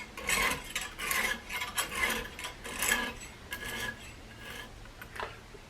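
Rhythmic rasping strokes as the thin blade of a SOG Terminus knife is drawn across a hone, about eight close, scratchy passes in a steady back-and-forth rhythm, with no talking.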